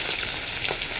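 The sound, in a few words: fish frying in oil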